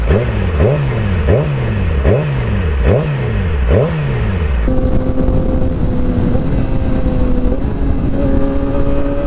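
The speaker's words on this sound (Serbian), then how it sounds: "sad sam taj seljak koji turira na semaforu. U stvari punim akumulator." A Yamaha motorcycle engine revs at a traffic light in a rhythmic series of about six sharp throttle blips rising and falling, then settles into a steady loud idle, close to the rider.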